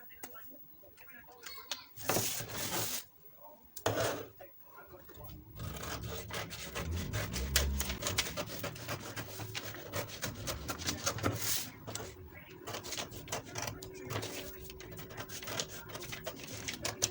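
Scissors cutting through a paper bodice pattern, with crisp snipping and rustling paper close by, more continuous in the second half, with a voice talking at moments.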